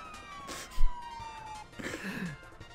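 Police car siren in the MTA driving game, a steady wailing tone sliding slowly downward over about a second and a half, followed by a brief burst of other game sounds and a thump.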